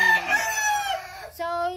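In a battery-type breeding cage, a rooster crows loudly and close with a long drawn-out call, followed by a second crow after a short gap.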